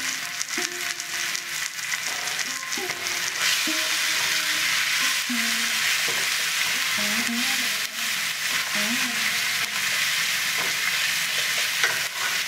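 A small pinch of old asafoetida (hing) frying in hot oil while being stirred, an even crackling sizzle with repeated scraping strokes of a spatula across the pan.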